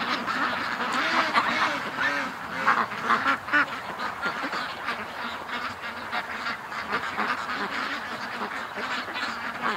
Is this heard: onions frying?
no